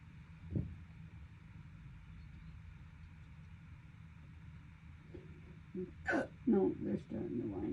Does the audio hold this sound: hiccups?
yes